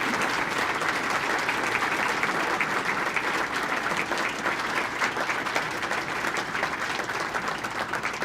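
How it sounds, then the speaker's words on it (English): Sustained, dense applause from a luncheon audience honoring veterans, active duty, Guard and Reserve members at a Veterans Day event, steady and full throughout with no voices over it. "A big round of applause."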